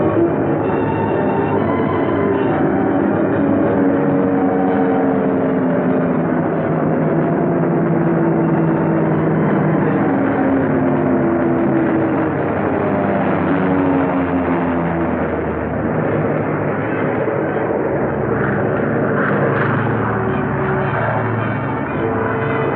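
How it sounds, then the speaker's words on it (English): Several WWII bomber aircraft return to an Aleutian airfield in 1943, circling and landing one after another: a steady, loud, droning engine roar held throughout with no talk. "Six bombers went out, and 6 are coming back."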